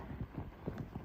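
Hooves of a ridden horse walking through snow, steady clip-clop footfalls close by with soft muffled thuds in an even rhythm.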